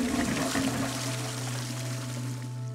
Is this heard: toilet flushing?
yes